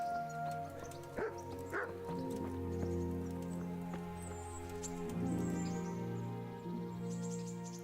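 Dog barking in the medieval role-playing game Kingdom Come Deliverance, a few sharp yips and barks over a steady soft musical bed, fairly quiet and with no talking.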